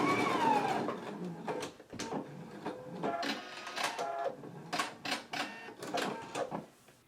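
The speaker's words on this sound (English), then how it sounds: "I'm going to take it back to the machine. I'm just going to baste across this upper edge here." A sewing machine basting across the upper edge of fabric, heard as faint, mechanical whirring bursts that stop and start, with clicks between them and no talking.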